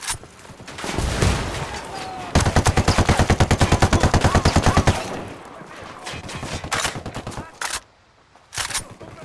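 Automatic gunfire in Ghost Recon Wildlands: loud rapid bursts with a long sustained stretch of evenly spaced shots in the middle, then shorter scattered bursts and a brief near-silence before a few final shots.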